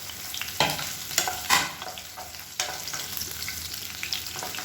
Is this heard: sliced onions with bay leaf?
yes